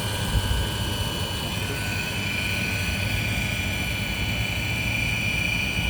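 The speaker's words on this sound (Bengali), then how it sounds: "এই যে ক্যাপাসিটর ছাড়া এখন স্টার্ট হয়েছে।" An electric motor runs steadily after starting without its capacitor, giving a continuous loud whine with a low rumble and a strong tonal hum throughout.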